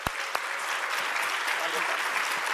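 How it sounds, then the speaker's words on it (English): Audience applause for a speaker at an investment talk on residential nursing care homes, opening with a couple of sharp claps and swelling into a sustained, loud round of clapping. "Let's give her another round of applause."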